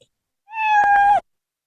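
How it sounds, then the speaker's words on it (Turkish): A single clear cat meow sound effect in Scratch, close and fairly loud, rising then falling over about a second, with silence before and after. "başarılı ve standart bir miyavlama sesi olmuş"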